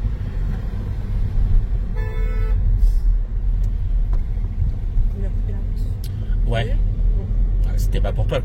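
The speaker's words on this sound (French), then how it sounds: "c'était pas pour toi le klaxon" A car horn sounds briefly in city traffic during a driving test in Rosny-sous-Bois, with a couple of short toots over steady road noise and engine hum while people talk inside the car.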